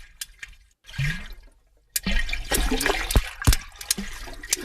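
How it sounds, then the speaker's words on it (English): A rig shark, a small bottom-dwelling shark off the New Zealand coast, snaps its teeth underwater, giving several sharp, loud clicks and cracks over a gurgling, watery background with no voices. "rig sharks, small bottom-dwelling sharks found off the coast of New Zealand that make a noise"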